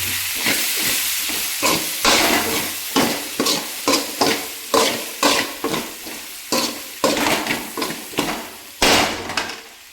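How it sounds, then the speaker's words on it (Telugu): Tomatoes being stirred into a hot pan for a beans curry, with a spoon scraping and knocking the pan in a steady rhythm over a constant sizzle, loud and close. "దాన్ని మనం బాగా కలుగుతాం మాడిపోకుండా టమాటాలు కూడా తీసుకొని బాగా కలుగుతాను"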